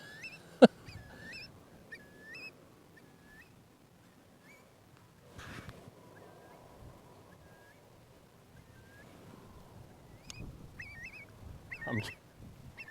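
Curlew calling outdoors, several short rising and bubbling whistled calls scattered across the clip at moderate distance, with occasional faint thumps and quiet background noise between them.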